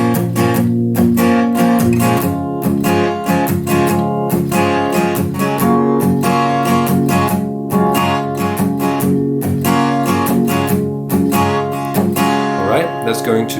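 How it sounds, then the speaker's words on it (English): Acoustic guitar played with a steady palm-muted strumming pattern, loud and close, with continuous rhythmic chords and muted percussive strokes throughout, no talking over it. "we just keep on doing the same strumming pattern with that palm mute"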